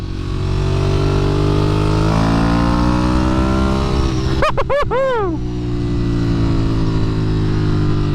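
A Ducati Panigale motorcycle engine holds a loud, close, steady idle, then gives a quick burst of sharp throttle blips in the middle before settling back to idle.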